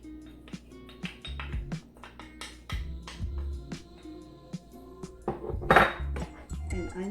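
Garlic cooking in olive oil in a pan, a steady low sizzle under frequent clinks and scrapes of a utensil against the pan.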